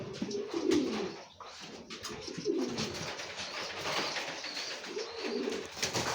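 A pair of pigeons, kept near Chinese ducks on a small poultry holding, coo in repeated soft, throaty bursts close by with no one talking.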